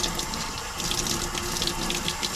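Warm water pours steadily from a tap into a sink, a constant close splashing rush with no voices.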